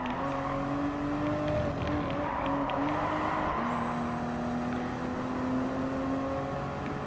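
A Toyota GR Supra GT race car in Gran Turismo Sport at Circuit de la Sarthe gives a steady, loud engine whine that shifts pitch through gear changes. It sounds close and continuous, with no speech over it.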